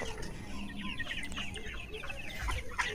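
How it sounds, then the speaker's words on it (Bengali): Sonali chickens on a farm cluck steadily in a dense overlapping chorus, with many birds close by and a few sharper calls standing out against constant background fowl noise. "দেখো মুরগিগুলো কত, অনেকটা মুরগি কিন্তু"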